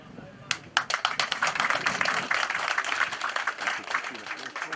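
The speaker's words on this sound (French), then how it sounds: "je voudrais nous inviter à applaudir pour nos jeunes élèves" An audience at a school visit in Bankoh applauds young pupils, a burst of clapping that starts abruptly and carries on densely, with voices mixed underneath.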